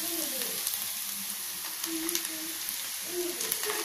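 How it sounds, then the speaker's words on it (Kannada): Fresh fenugreek leaves frying in a pan over a medium flame, a steady close sizzle with occasional stirring scrapes, no talking. "ಇದು ಮೀಡಿಯಮ್ ಫ್ಲೇಮಲ್ಲಿ ಒಂದು 2 ರಿಂದ 3 ನಿಮಿಷ ಫ್ರೈ ಆಗಬೇಕು, ಫ್ರೈ ಮಾಡ್ಕೊಳ್ಳಿ."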